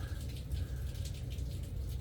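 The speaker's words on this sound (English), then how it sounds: "It is pouring the rain outside. I'm sure you can hear it hitting out the back door of my garage." Heavy rain pours outside a garage and drums on its back door, a steady, dense patter of drops that continues evenly from start to finish with no voices.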